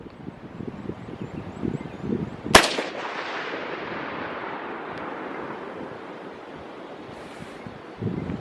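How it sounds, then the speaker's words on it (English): A single loud rifle shot cracks outdoors while the rifle is being sighted in, followed by a long rolling echo that fades over several seconds against steady wind noise on the microphone. "So I'm going to put a couple more shots through and go have another look at the target."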